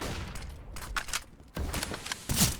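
Bursts of rifle and pistol fire from Counter-Strike: Global Offensive during an Endpoint versus 5Frags esports match, sharp rattling volleys coming in clusters with a loud final burst near the end, no talk over them.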